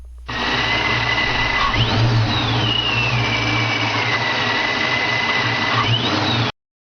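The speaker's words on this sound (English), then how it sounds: "Take a listen to the sound of a centrifugal vortex supercharger." Centrifugal vortex supercharger running on a car engine, a loud steady whine and rush with a high tone that rises and falls as revs change, close and continuous until it cuts off abruptly.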